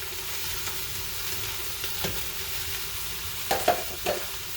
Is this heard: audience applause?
no